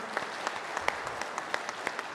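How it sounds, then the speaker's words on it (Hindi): A conference audience at the Amar Ujala Samvad 2025 event claps steadily with scattered sharper individual claps, moderately loud and continuous for a couple of seconds. "एक बार जोरदार तालियां आप सभी की"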